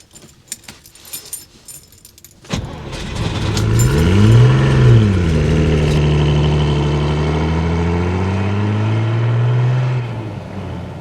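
Keys jingle faintly before the engine of a Lancia Flaminia GTL classic coupe fires and revs up loud and close, its pitch rising and falling through the gears, then settling into a steady drone while driving.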